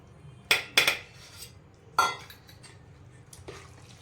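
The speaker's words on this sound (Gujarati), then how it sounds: "જો આપણું તેલ રેડી અને આપણે સરસ મિક્સ કરી દીધું." A metal spoon clanks and scrapes against a steel vessel while oil is mixed into a chana methi mango pickle, several sharp clinks early, then scattered softer knocks and stirring scrapes, close and without talk.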